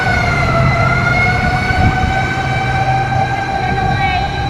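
A fire engine siren wails loud and steady, close by, as it arrives at a burning home center store in Tanauan City, with crowd noise and traffic rumbling beneath.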